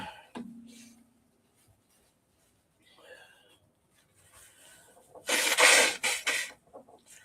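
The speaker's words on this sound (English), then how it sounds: "Let me blow my nose." A person with a stuffed-up nose from a cold blows hard into a tissue in one loud, noisy burst of about a second, followed by a few softer snuffles, after quieter rustling and small sounds.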